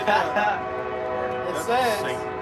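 A passing train sounds its horn in long, sustained blasts, a rich tonal wail that swells, dips, then rises again over background rumble.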